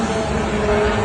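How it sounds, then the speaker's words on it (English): A Russian attack drone's motor drones loudly and steadily at a constant rate, a continuous engine hum with no other sounds and no talking. "the drone's motor was running at a consistent rate"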